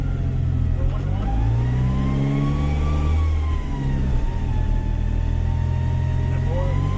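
Car engine on a chassis dyno pulling in fourth gear, a steady loud drone with rising and falling harmonic tones as revs shift, continuous throughout.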